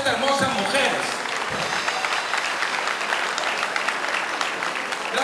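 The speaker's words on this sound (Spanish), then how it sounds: "Un aplauso para todas estas hermosas mujeres." Audience applause for the women at a Spanish-language comedy show, a dense, steady wash of clapping lasting throughout with crowd noise and some voices mixed in.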